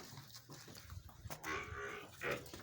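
A Nili water buffalo offered for sale at a livestock market in Arifwala gives low lowing calls amid noisy outdoor bustle, with two louder bellows in the latter half.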